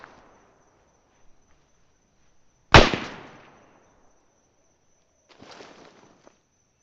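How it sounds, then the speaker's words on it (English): Arma 3 video game gunfire: a single sharp gunshot cracks loudly and echoes away, followed a few seconds later by a quieter burst of distant rattling shots. "That's the reason why we're hearing all the gunfire."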